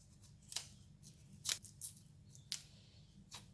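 A knife cuts and scrapes the skin off cassava in short, sharp strokes, five or six crisp slices spaced irregularly over a low steady background hum.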